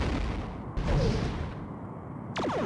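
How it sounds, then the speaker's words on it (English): Torpedo launches in the starship game Star Trek: A Final Unity, loud rumbling blasts with a sudden swelling whoosh near the start and another sharp burst near the end over continuous low roar. "Fire all the torpedoes!"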